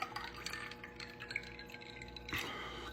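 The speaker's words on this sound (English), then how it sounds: "So we're just gonna add a drop of water in here." A drop of water falls into a glass of bourbon: a small close drip and a faint glassy clink in a quiet room, followed by a brief louder splash near the end.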